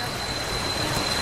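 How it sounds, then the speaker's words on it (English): Steady wash of heavy rain near a waterfall on Koh Samui, a dense hiss with no breaks, close and fairly loud. "It's actually pissing down rain now."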